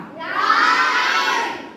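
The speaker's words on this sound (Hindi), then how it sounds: "चीख क्यों रहे हो?" A group of children shouts together during a quiz game, a loud, sustained burst of excited yelling that swells and then tapers off.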